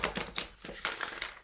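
A tarot card deck is riffle shuffled up close, giving quick bursts of crisp, fluttering card riffles and light slaps in an uneven rhythm.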